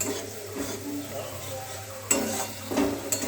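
Thick spice paste sautéed in a pan over a raised gas flame, with low steady frying and scraping stirs, a few sharper utensil clinks against the pan near the end.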